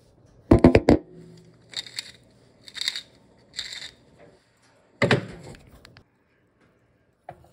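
Pepper being ground by hand into a dish of food, a few sharp crunchy bursts of grinding in separate spurts, close and alone.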